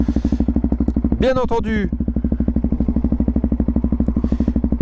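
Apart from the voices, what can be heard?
Yamaha MT-03 660 motorcycle with aftermarket exhaust, no baffle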